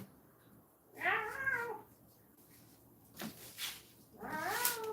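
A cat named Fern gives two drawn-out meows a few seconds apart, close and fairly quiet in a still room, with a soft bump between them.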